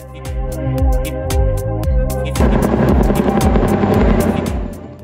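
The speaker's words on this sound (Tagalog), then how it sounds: "kaya may tatlong helicopter na nagbubuhat ng flag sa taas" Three helicopters carrying a large flag fly over Singapore near Marina Bay Sands, their rotors beating in a fast, loud, steady thump that swells and thickens as more aircraft pass overhead, with no talk.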